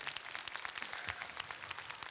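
Audience applause at a convention conference for manga artist Hiro Mashima at TGS Toulouse 2022, a dense, steady patter of many hands clapping, fairly faint and continuous through the short stretch.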